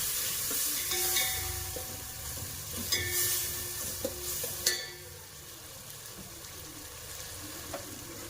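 Food stirred in a hot frying pan after lemon juice is added, a steady sizzle with scraping and clattering utensil knocks, a few sharper clicks standing out.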